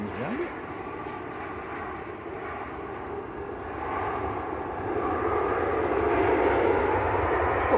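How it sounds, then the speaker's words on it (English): A Ryanair jet on short final approach at Manchester Airport produces a sustained engine rumble and whine that grows gradually louder as it nears, heard alone with no talking. "Look to be some nice ribbons coming off that Ryanair just on short finals."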